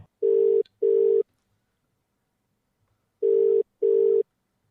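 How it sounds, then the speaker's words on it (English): Two pairs of steady electronic ringback tones from an outgoing phone call, each pair a short double burst, separated by a pause; clear and alone with no talking. "You should hopefully be able to hear it ringing."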